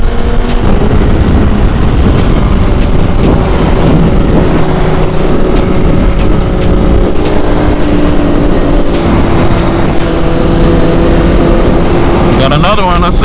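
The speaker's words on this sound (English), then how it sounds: "S1000 in the front. That bike is quick, y'all." BMW S1000 motorcycle racing at a smackdown event, its engine screaming loud and sustained through the whole stretch among other vehicles, with people talking over the roar.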